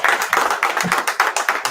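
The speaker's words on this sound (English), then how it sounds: "Clap it up." Audience at a live scripture class in Killeen, Texas claps in a quick, steady rhythm, close and fairly loud, with a faint voice briefly audible underneath.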